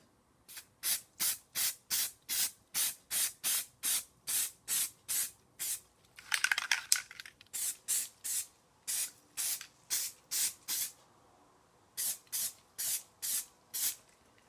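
A spray can lays a first coat of paint on a Hoover 912A vacuum cleaner part, in a steady series of short, close hissing bursts at an even rhythm, with a longer scuffing interval midway and no talk.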